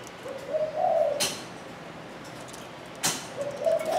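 A cu đất dove from Phú Yên coos twice, each a soft, rolling coo phrase separated by a pause, over faint background hiss, with sharp clicks or knocks nearby.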